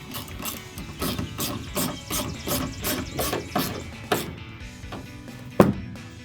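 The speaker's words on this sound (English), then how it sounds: "Using a T15 Torx bit and a ratchet." A ratchet with a T15 Torx bit tightens the taillight bolts on a 2019-2025 Sierra 1500 pickup. Crisp, close clicks come in quick repeated bursts, ending in a few louder final snaps.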